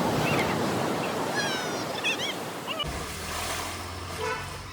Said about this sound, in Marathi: लाटा वगैरे नाही का, खूप जोरात आहे